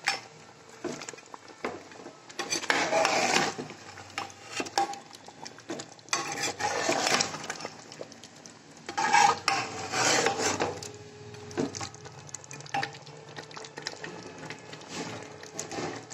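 A spoon scrapes and stirs fried ingredients for a chicken korma in a cooking pot, rasping strokes rising and falling in uneven waves, close and fairly loud with no talking.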